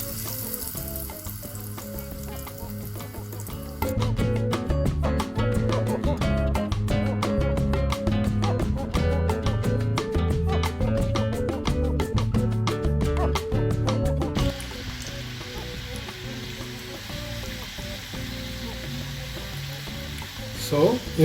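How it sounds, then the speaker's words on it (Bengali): Chicken croquettes deep frying in hot oil, a steady bubbling sizzle that jumps sharply louder and crackly for about ten seconds before settling back to a softer simmer, with occasional faint talk. "এখন আমি এক এক করে আমার চিকেন ক্রোকেতে দিয়ে দিব তেলের মধ্যে।"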